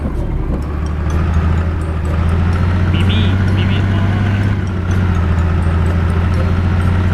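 A modded TG.160 tractor drives slowly along a road in Truck Simulator Ultimate, its engine giving a steady, loud, low rumble throughout while someone talks over it.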